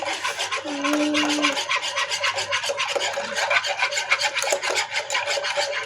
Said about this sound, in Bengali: এখন খুবছে নাড়তে হবে, অনেক নাড়তে হবে।